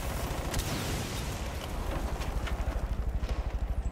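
An explosion in Rainbow Six Siege, a loud, close blast that opens the moment and then gives way to a rumbling, rhythmically pulsing roar.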